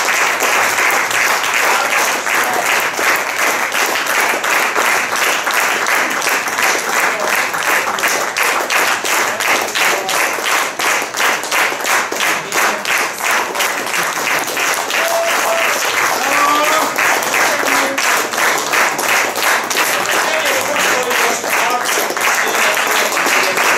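Audience applause fills a hall after a youth wind band concert in Táplánszentkereszt, Hungary: steady, dense clapping from a large crowd that stays loud and even throughout, with no music or talk over it.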